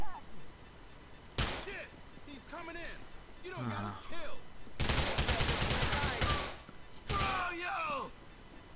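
Gunfire in the video game GTA 4 as a lock is shot open: loud bursts of broadband shots around the middle and near the end, with someone talking between them.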